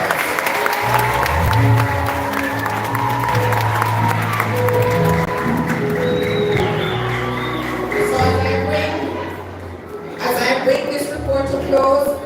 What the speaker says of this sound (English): Give the teachers another round of applause.